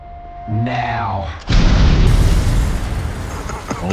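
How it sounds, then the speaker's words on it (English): A deep, loud explosion bursts in after a brief descending whine, followed by a sustained roar and rumbling debris that slowly tapers off. "Don't look at explosions."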